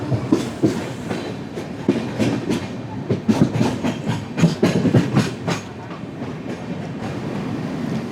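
Steady clickety-clack of the 16332 Express rolling into Ernakulam North station, heard from aboard the train, with loud, rhythmic wheel beats over a constant rumble that eases slightly toward the end.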